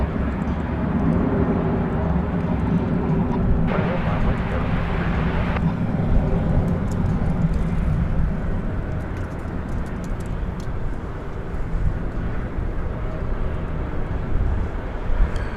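An American Airlines Boeing 737-800 bound for Omaha at DFW Airport at night, its jet engines giving a steady, fairly loud broadband roar that holds throughout with little change.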